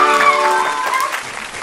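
Short burst of applause from a small audience at a children's quiz show, loud and close, thinning out over under two seconds.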